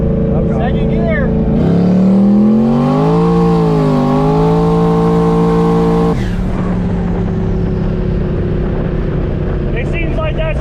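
A tuned HEMI car engine roars loudly and climbs in pitch as it accelerates hard in second gear, then the revs drop and the engine settles into a lower drone, with people shouting and talking around it.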